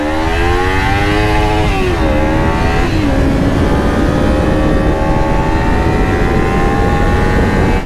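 A 300 cc motorcycle rides along a road, its engine droning loud and steady throughout with a pitch that dips and then climbs gradually, accompanied by constant wind and road roar.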